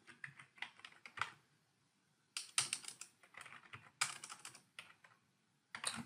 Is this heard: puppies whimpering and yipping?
no